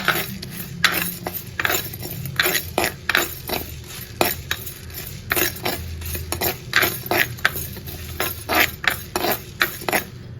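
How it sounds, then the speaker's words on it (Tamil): A spatula scrapes and clinks in a pan as pepper, fennel, cinnamon, cloves and cardamom dry roast, making a quick, uneven rhythm of metallic taps and scrapes, close and fairly loud, with no talk. "அதுல மிளகு, சோம்பு, பட்டை, ரெண்டு துண்டு கிராம்பு, ஒரு ஏலக்காய் இது எல்லாத்தையும் போட்டு லைட்டா வறுத்துக்கலாம்."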